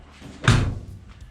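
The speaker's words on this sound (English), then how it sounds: "Doors close nice." A single solid door of an old barn-find Dodge car shutting with a firm thud, close by, followed by a short fading tail and quiet background.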